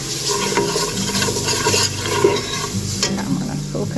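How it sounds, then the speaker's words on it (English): Grated onion dropped into a hot pan and stirred, a close wet scraping and sizzle with a few clinks of the utensil against the pan, steady and without voices. "This is some grated onion going inside here."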